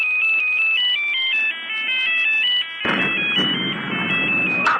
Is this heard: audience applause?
no